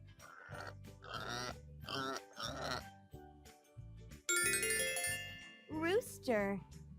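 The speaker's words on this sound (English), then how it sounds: "Pig." A pig grunts and oinks in a series of short bursts, fairly close, with a chiming jingle and a squealing note near the end.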